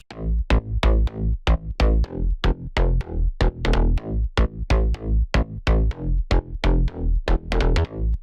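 Layered synth bass with a deep sub underneath, playing a steady run of punchy plucked notes that quicken near the end.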